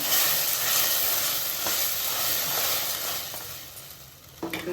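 Pureed tomato fries with onions in a pan for Indian-style pasta, giving a steady, close sizzle with soft stirring that eases slightly before a few light clinks at the end.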